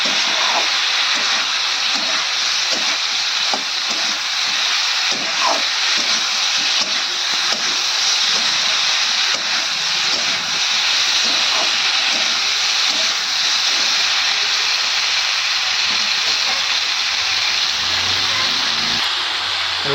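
Cauliflower sautéing in a pan for a Bengali fish-and-cauliflower curry, giving a steady, loud sizzle and hiss that runs unbroken throughout, with faint scraping or stirring taps underneath and no talking.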